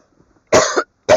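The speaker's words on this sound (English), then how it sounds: "for all the coughing" Two harsh coughs come from one person after a near-silent pause, the first longer and rasping, the second short and cut off.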